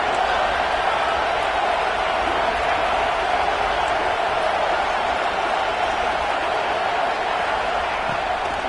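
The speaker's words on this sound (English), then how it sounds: "The Buckeye crowd alive on third down." A Buckeye football stadium crowd roars steadily on a third down, a dense, continuous wash of cheering and shouting from thousands of fans that holds loud and unbroken throughout with no clear break.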